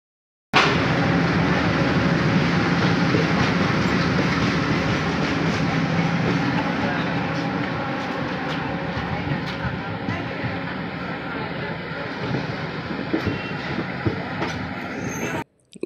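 A train rumbles steadily along the rails, a continuous loud roar with faint wheel clatter, easing slightly toward the end.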